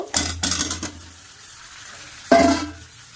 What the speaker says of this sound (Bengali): এবার ওর মধ্যে আমি আলুগুলো ঢেলে দেব।